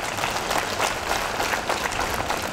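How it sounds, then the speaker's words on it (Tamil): An audience at a book fair in Erode claps for a speaker, a dense run of many hands clapping with slight pulsing rhythm, steady and fairly loud, without talk. "இந்த கைத்தட்டலை எனக்காக நான் கேட்கவில்லை."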